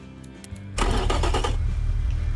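A SAAB/GM 2.8L turbo V6 engine in the Automation game cranks briefly, then fires and catches into a loud, steady running roar that settles into idle.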